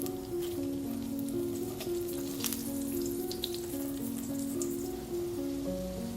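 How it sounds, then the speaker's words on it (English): Cashew nuts frying in oil crackle with a soft, steady sizzle throughout, with faint pops and no talking. "I'm now adding the cashew nuts to the oil to fry them."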